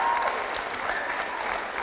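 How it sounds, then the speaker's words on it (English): An auditorium audience claps steadily in warm, even applause after a live music performance, sustained and moderately loud for the whole short stretch with no talking. "let's give them another round of applause"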